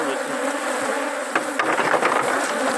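Honeybees buzzing around an apiary hive, a dense close swarm drone holding steady throughout, with a few sharper bursts and clicks near the middle and no talk.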